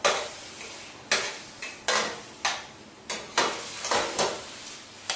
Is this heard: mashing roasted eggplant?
yes